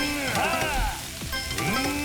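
Frying sizzle from the cooking minigame in Yakuza Kiwami 3, a steady hiss running under bright game music tones and chimes for about two seconds.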